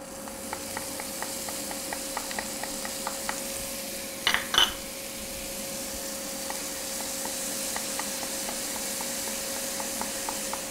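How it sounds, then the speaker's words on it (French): Shallots sautéing in olive oil and butter give off a steady, close sizzle, with light stirring ticks scattered throughout and one brief louder scrape in the middle. "faire revenir les échalotes dans l'huile d'olive et le beurre"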